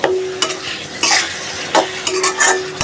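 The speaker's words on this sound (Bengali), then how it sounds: "ইলিশ মাছটা ভালোভাবে কষায় নিই মশলার সাথে" Hilsa fish being stir-fried with spices in a pan, heard as loud close scraping strokes of a spatula at irregular intervals over a light sizzle.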